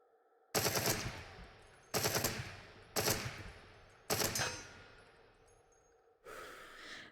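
Automatic weapon fired at the shooting range in Into The Radius VR, five separate short bursts of loud rapid shots with quiet gaps between them, each burst trailing off briefly.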